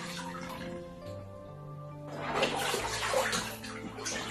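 A pet goose swims and splashes in a home bathtub-sized pool, with steady watery sloshing that swells louder halfway through, over a faint background hum.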